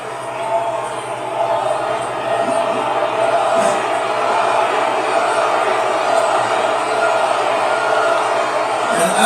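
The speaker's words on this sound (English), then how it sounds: "people cheering for a Democrat is absolutely, I've never seen this" A large political rally crowd cheers and whoops in a steady, distant roar that holds for several seconds, with speech mixed faintly into the din.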